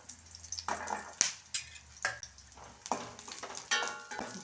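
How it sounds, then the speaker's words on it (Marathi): Garlic cloves sauté in a pan after roasted chillies, as a soft sizzle runs under a series of sharp spatula scrapes and clinks against the pan, close and with no one talking. "थोडंसं परतवून घ्यायचं लसूण परतवल्यानंतर काढून घ्यायचं आहे"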